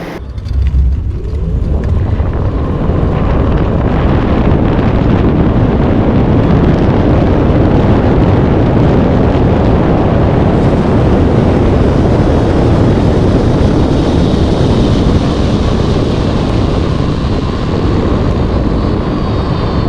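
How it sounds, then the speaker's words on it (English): An electric motorcycle with regenerative braking slows from speed as the throttle is chopped and brakes applied, giving a loud, steady rush of wind and road roar throughout with no engine note and no talk. "Now I'm going to chop the throttle and hit brakes."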